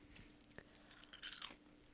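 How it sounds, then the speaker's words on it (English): Quiet, close crunching of potato chips being chewed, a few crisp bites followed by a denser flurry of crackly chewing, faint but clear with no talk. "if you hear crunching, it's because I'm eating chips right now."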